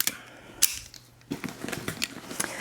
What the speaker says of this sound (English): apologies for the sound of the Velcro, but it is a Velcro bag